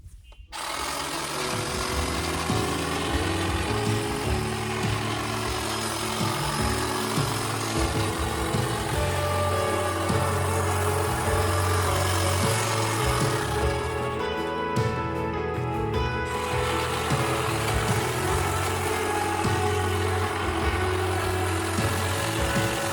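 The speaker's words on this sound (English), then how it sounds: "these two DeWALT hedge trimmers, this works really, really good for going right along and getting your hedges or your bushes trimmed really quick and easy." Two DeWALT cordless hedge trimmers, a DCHT820 and a DCPH820 pole model, cut along the top of bushes, giving a steady, loud buzzing motor whine with chattering blades that runs continuously throughout.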